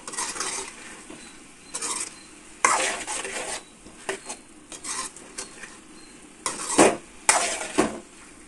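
Green chili paste masala frying in a pan, with intermittent bursts of stirring and metal utensil scrapes against the pan over a low sizzle, close by and without talk.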